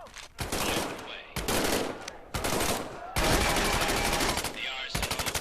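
An M1A1 submachine gun fires in a VR video game, loud rapid automatic bursts separated by brief pauses, with faint voice in the background.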